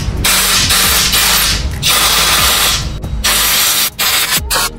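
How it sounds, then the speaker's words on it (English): Compressed air blasts under a motorcycle handlebar grip during a Tenere 700 heated grip install, coming as loud close hissing bursts with a few sharp cutoffs and short gaps near the end. "My preferred method for removing grips has always been compressed air."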